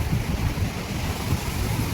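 A steady wash of surging sea waves with low wind rumble around a fishing boat heading out, continuous and fairly close, no voices.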